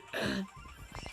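A single harsh cough bursts out close by, followed by a few quieter throaty sounds as the person recovers.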